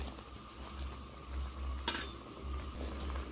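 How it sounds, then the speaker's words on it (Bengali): Fish curry with fried mourola fish being stirred gently once in a cooking pan, giving soft scraping and light clinks over a faint simmering sizzle, close and alone without talk. "এটা হালকাভাবে একবার মিশিয়ে নিলাম।"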